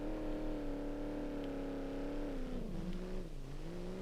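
A car engine in the driving game BeamNG.drive roars steadily at high revs, loud and continuous, with the pitch dipping and wavering briefly near the end.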